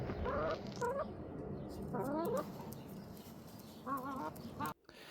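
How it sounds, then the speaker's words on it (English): Silkie chickens, a fluffy-feathered breed with an extra toe, in a London self-sufficiency garden give several short bursts of clucking and warbling calls close by, over a steady outdoor background. "So these are silky chickens, so they have fur instead of feathers and an extra toe."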